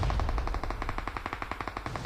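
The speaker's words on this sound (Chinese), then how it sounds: "你是不是那边还有枪声啊？" Automatic gunfire in a battle royale video game, rapid evenly spaced bursts of shots, a long rattling string of about fifteen reports, moderately loud and unaccompanied by talk.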